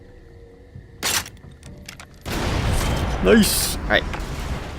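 Gunshots in the video game Far Cry 2: a sharp broadband blast near the one-second mark, then a dense, loud burst of gunfire and impact noise with a couple of sharp cracks, with someone talking briefly over it.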